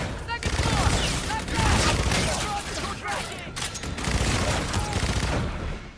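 Automatic gunfire in the shooter game Infinite Warfare, dense loud rattling bursts and blasts filling the scene continuously, with voices mixed in.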